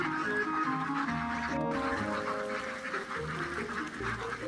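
Ducks quack repeatedly in a steady, close chorus of nasal calls, moderately loud over a faint background, with no one talking.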